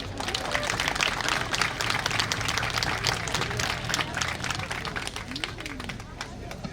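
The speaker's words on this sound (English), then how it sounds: "let's give all of these inductees one more round of applause." A large crowd applauding steadily at a football Wall of Fame induction ceremony, dense clapping that holds for several seconds before tapering slightly, with some cheering and murmur mixed in.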